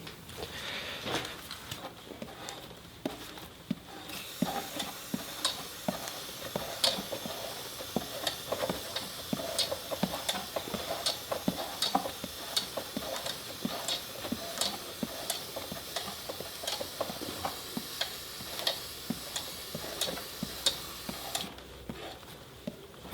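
Steady hiss of chain wax sprayed onto a motorcycle chain, with faint ticking and clicking running underneath, fairly quiet and continuous for most of the stretch.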